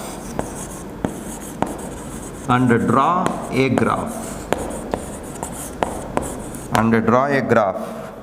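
Pen writing on paper while a graph is drawn for a physics problem, with short scratchy strokes and taps close by, interrupted by two bursts of a voice talking.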